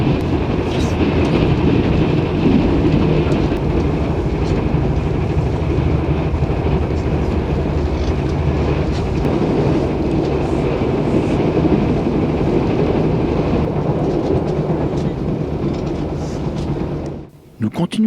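Overland passenger train travelling through rural Australia, a continuous loud rolling rumble with wheel clatter heard from inside the carriage, steady for most of the stretch before a sudden drop at the end, with talk over it.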